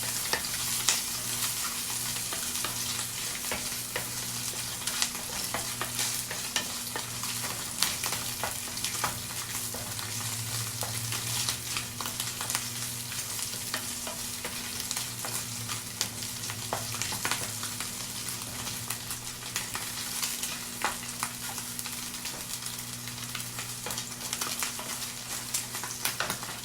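Continuous sizzling of cauliflower frying in oil, with occasional stirring scrapes and a low hum in the background, no speech.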